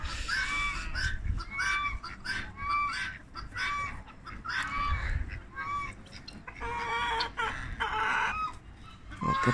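Hens and two roosters, one older and one younger, cluck and squawk on a small poultry farm, nearby and busy with overlapping calls in irregular bursts, along with rustling and handling noise.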